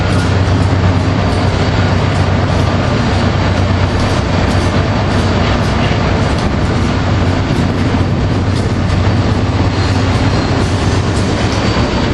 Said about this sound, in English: we got a BNSF and Union Pacific units leading a southbound oil train